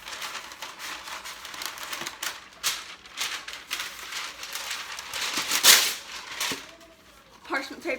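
Parchment paper is ripped by hand in a kitchen while baking chocolate chip cookies, with crinkling and tearing rustles in short bursts and one sharper rip, fairly quiet and close.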